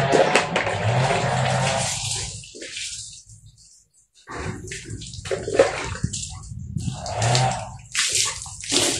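Well water is poured into a basin for rinsing laundry, loud gushing splashes in several bursts with a short silent gap in the middle, then sloshing and pouring again.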